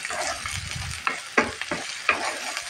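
Garlic and a little ginger paste being sautéed in a pan, soft sizzling broken by a few sharp scraping stirs of a spoon, close and fairly quiet, no voices.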